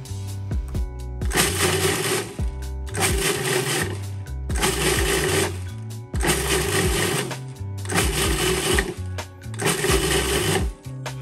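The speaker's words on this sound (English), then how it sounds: "We're gonna start off breaking down these rolled oats." A food processor grinds rolled oats for venison burgers in loud pulsed bursts. Five or six roaring surges of about a second each are separated by short pauses, with no talking.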